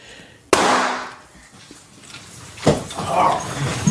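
A single sharp, loud bang from a firearm going off by accident in someone's pocket, followed by a noisy decaying tail and confused muffled commotion.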